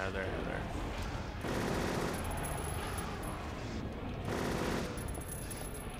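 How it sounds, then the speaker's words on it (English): Submachine gun fire in Silent Hill 3, loud rapid bursts with a couple of short pauses between them, set against a dense, noisy game soundscape. "Let's try the submachine gun."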